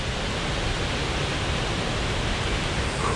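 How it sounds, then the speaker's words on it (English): A large waterfall in Scotland rushes steadily, a dense, even roar of falling water filling the whole scene with no voices. "The beautiful waterfall we thought was the main one is not."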